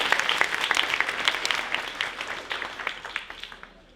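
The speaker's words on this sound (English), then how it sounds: "one last round of applause for all of our guests" A school audience gives a final round of applause for its guests, crisp close claps that build into a lively burst and then thin out and fade away toward the end.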